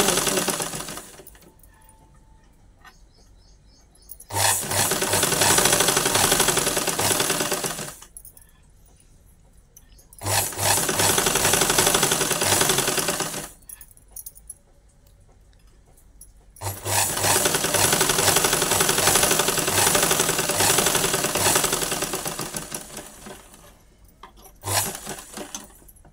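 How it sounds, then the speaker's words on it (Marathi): A sewing machine stitches piping onto a blouse in three long, loud runs of fast, steady whirring, separated by quiet pauses, with a short final burst near the end. "अशी आपल्याला शिलाई करून घ्यायची आहे"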